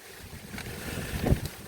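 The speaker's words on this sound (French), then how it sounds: "Ah, il y a du vent, j'espère que vous allez quand même m'entendre." Outdoor wind buffets the microphone in a low, steady rumble that swells and gusts toward the end, with no talk.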